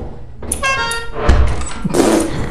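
A car horn sounds briefly inside the video game Lethal Company, a short tonal blare followed by thumps and rough shuffling noise, close and fairly loud.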